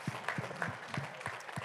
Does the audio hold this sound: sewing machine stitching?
no